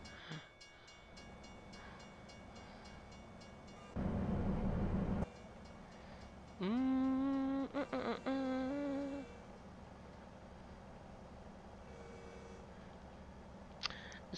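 A train rolls past a truck on the road in American Truck Simulator, a low rumble that swells for a moment, followed by a sustained horn-like tone over steady engine drone.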